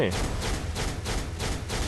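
Repeated explosive bursts from a character's skill attack in the mobile game Marvel Future Fight, a dense rumbling barrage pulsing roughly three times in under two seconds, loud and continuous with no pause between blasts.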